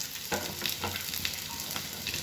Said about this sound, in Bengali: আলুগুলো আমার লাল লাল করে ভাজা হয়ে গেছে